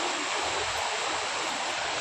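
Continuous rushing hiss of the Sawatsada waterfall at Chiplun, with reduced flow after light rain, heard as an even, fairly loud wash of water without speech.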